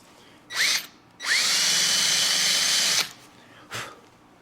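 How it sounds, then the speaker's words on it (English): A power drill with a countersink bit bores into the brake lining of a 1914 Chevrolet, running in a short burst, then a long steady whine of about two seconds, then a brief final spurt. "So I've got, in this drill, I've got the countersink. It's the bit and the countersink."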